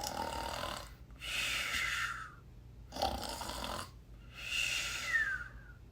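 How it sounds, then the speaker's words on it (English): Snoring from a sleeper in a ship's bunk-room sleeping quarters, slow alternating breaths with rasping inhales and whistling exhales, close and fairly quiet, about three cycles with gaps between. "he all of a sudden hears snoring coming from one of the ship's sleeping quarters"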